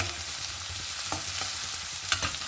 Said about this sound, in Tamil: இப்போ அதில் வெங்காயத்தை சேர்த்துக்கிடலாம்.